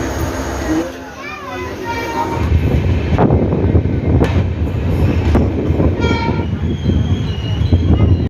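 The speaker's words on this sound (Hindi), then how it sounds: "हमारी बिहार संपर्क क्रांति एक्सप्रेस पहुंच चुकी है बिहार से अब उत्तर प्रदेश में" The Bihar Sampark Kranti Superfast Express rolls along with rumbling wheels, squealing metal and clattering carriages heard from inside, while people talk and children's voices come and go over the steady noise.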